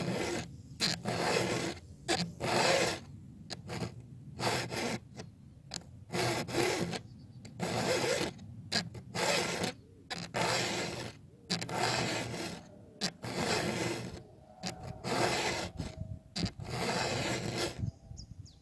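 A flat file rasps in repeated strokes along the cutters of a chainsaw chain during sharpening, each scrape a rough burst separated by short pauses, steady and fairly close, with no talking.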